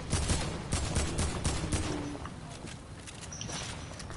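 Rapid bursts of video game sniper and gunfire shots crack in quick succession at first, then thin out to a few scattered shots and faint footsteps, loud and close.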